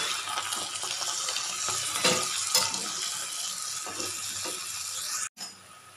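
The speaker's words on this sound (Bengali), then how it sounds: "শাকের জন্য আমি বড়ির মধ্যে ভালো করে ভেজে নিচ্ছি" Bori lentil dumplings fry in oil for bottle gourd greens, a continuous close sizzle broken by a few stirring scrapes, then a brief cutoff near the end.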